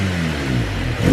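Kawasaki KRX side-by-side engine choking out as the throttle is blipped: a loud, rough, sputtering mid-range engine note, close up with no talk.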